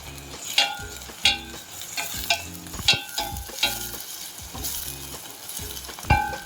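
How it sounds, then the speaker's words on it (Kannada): Chopped green chillies sizzle in hot oil in a pan for dal tadka, with steady frying hiss broken by repeated scraping stirs of a spoon against the pan, close and fairly loud, no voices. "ಈಗ ಇದರಲ್ಲಿ ಕಟ್ ಮಾಡಿ ಇಟ್ಕೊಂಡಿರುವಂಥ ಹಸಿಮೆಣಸಿನಕಾಯನ್ನ ಹಾಕಿಕೊಳ್ತಾ ಇದ್ದೇನೆ"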